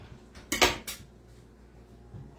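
A cutting board and knife handled in a home kitchen, giving a loud wooden clatter and knock followed by a second knock, then quiet.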